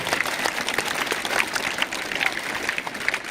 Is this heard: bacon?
no